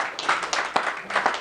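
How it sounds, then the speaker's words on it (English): An audience applauding partway through a talk about making money from property, with soft, scattered claps in an uneven rhythm in a room, moderately faint and without speech. "I thought you were clapping because that was the end."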